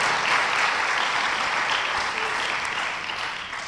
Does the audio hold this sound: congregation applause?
yes